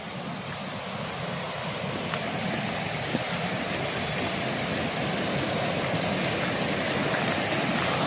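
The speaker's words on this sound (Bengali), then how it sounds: "এই দেখুন এদিকে জল আসছে দেখুন" Water flows steadily at an orchid garden in Darjeeling, a continuous broad rushing wash that stays even and fairly loud throughout, with no voices.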